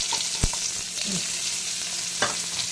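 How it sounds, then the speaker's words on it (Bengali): Onion frying in a little hot oil, giving a steady close sizzle with a few sharp clicks and scrapes of stirring. "তেলটা গরম হয়ে গেল ওর মধ্যে পেঁয়াজটা দেবো"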